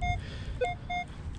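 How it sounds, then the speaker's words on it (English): Minelab X-TERRA PRO metal detector swung beside an iron post, giving short faint electronic beeps of varying pitch repeating over low outdoor rumble. "here's the sound of the iron post when you're swinging next to it."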